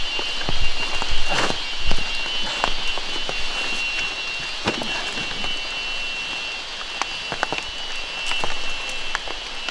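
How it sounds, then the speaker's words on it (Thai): Steady rain falling in a forest, a dense continuous hiss with scattered sharper drop hits and brief louder gusts, close and fairly loud with no voices. "เพราะว่าฝนมันตกด้วย"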